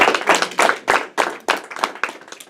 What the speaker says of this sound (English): Please, a round of applause for Miss Charlotte.